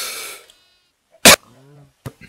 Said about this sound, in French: Oups, pardon, j'ai toussé